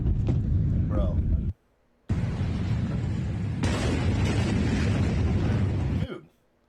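A fireworks factory explosion plays back as a heavy roaring blast of dense rumble, cut by a brief silence and then resuming as a sustained thunderous roar before ending abruptly.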